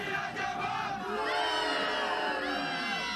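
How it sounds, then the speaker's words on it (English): A large cartoon crowd in Family Guy roars with sustained, loud booing and jeering, a dense wall of many voices that holds steady for about three seconds. "those boos don't hurt so much"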